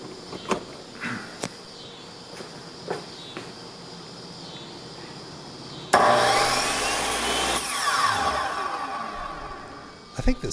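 A DeWalt DW705 Type 1 compound miter saw, just fitted with a replacement switch, starts with a sharp onset after a few faint clicks and runs loudly with a steady whine for about four seconds, then stops.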